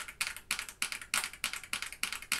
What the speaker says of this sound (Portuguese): apertar bastante a tecla, ver bastante aqui os estabilizadores